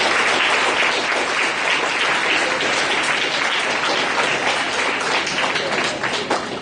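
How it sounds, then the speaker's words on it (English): Loud, sustained applause from a school audience at an English declamation competition honoring Shakespeare rolls on without a break, many hands clapping densely and evenly, close to the microphone and tapering slightly at the end. "let us have a big round of applause for them"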